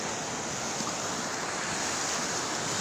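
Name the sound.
sea waves roaring on the shore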